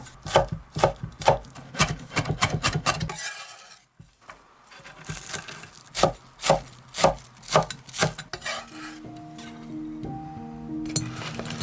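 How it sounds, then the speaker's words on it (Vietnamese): Rapid knife chopping of shallots and garlic on a cutting board, steady bursts of close, sharp taps, a short pause, then more chopping with a faint tonal hum beneath. "Băm hành tỏi để ướp tôm."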